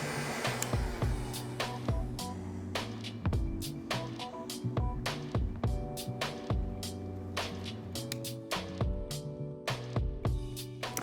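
A heat gun blows steadily up close while curing leather filler putty on tufted leather furniture, a continuous airy hum heard alongside repeated sharp clicks and taps.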